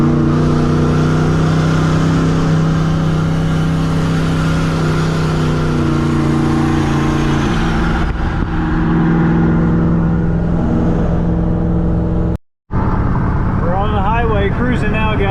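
A turbo GMC truck cruises at highway speed towing a trailer, its steady engine drone and road rumble loud and continuous, shifting tone midway, with a short gap and some chatter near the end.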